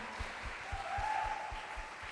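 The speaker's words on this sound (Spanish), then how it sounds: "Dale ese aplauso a Jesús si tú lo piensas así." A church congregation claps for Jesus at a Spanish-language service, a fairly faint wash of applause with a steady rhythmic low thump at regular beats, as if clapping in time.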